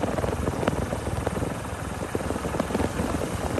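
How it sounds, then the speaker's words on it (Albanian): Helicopter flying over the coastal area of Vlora, a dense continuous rotor thumping and engine roar, loud and close for the whole stretch. "një helikopter që po fluturonte mbi zonën bregëtare të Vlorës"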